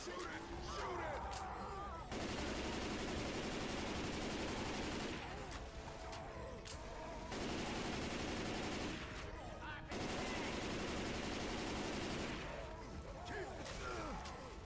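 Sustained bursts of gunfire in Left 4 Dead 2 on a snowy map, loud rapid volleys lasting a few seconds each with short pauses between, voices talking in the gaps.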